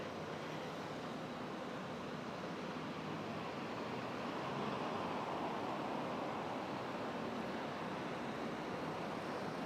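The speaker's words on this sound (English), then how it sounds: "There's a water element right here." A water feature fountain along a Singapore city walk, giving a steady broadband rush of falling water like distant surf, continuous and even throughout, with faint wind and no talking.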